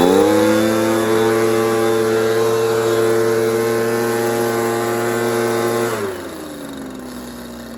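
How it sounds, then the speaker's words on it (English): A small two-stroke Echo PB230LN leaf blower engine runs at a steady high whine, loud and close, then drops to a lower idle near the end. "Let me start it up and you'll see it actually runs pretty good."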